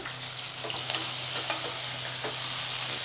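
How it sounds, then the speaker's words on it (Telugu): Whole spices fry in hot oil for a mutton curry, a close, even crackling sizzle with a few sharp pops and stirring clicks, heard alone without speech. "ఇలా ఆయిల్లో వీటిని ఫ్రై చేయడం వల్ల"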